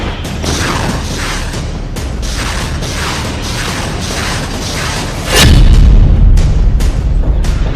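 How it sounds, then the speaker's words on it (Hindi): War news footage of missile strikes brings a steady, dense rumble punctuated by repeated thuds, then a much heavier blast swells into a loud, roaring low boom that continues to the end. "अरब का आसमान मिसाइलों के शोर से भर गया है।"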